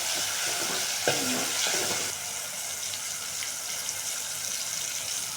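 Tomato and grated coconut frying in a pan, a steady hissing sizzle with a few stirring scrapes near the start, close and fairly quiet with no talking.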